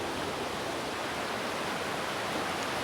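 At Rangpani, cold water coming down from Meghalaya pours over rocks in an unbroken, full rushing hiss, near and steady throughout with no pauses or talk.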